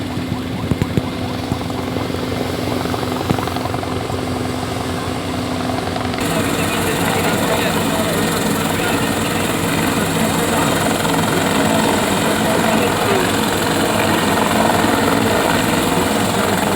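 A patrol helicopter drones steadily with a loud, constant rotor and engine roar that gets fuller and louder partway through, with no pauses.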